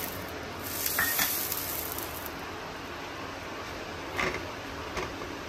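A rolled veg shawarma flatbread roasts in a hot oiled pan with a soft, steady sizzle, broken by a few faint scrapes and shuffles of handling, with no talking.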